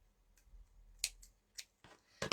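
Scissors snipping thread while wrapping handmade boho beads for junk journals, a few quiet, sharp clicks close by, spaced irregularly and ending in a louder double snip, with no talking.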